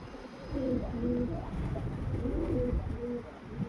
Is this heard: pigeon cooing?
yes